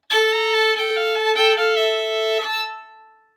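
A bowed fiddle rings out a sustained double harmonic across two strings, bright and steady, with slight sliding shifts in pitch before it fades out.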